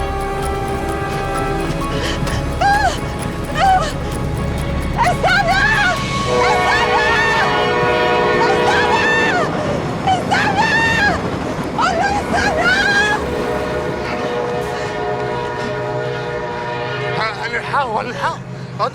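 A passenger train bound for Alexandria rumbles past with a continuous rolling roar as its horn sounds repeatedly in wavering blasts, over a noisy station with people talking.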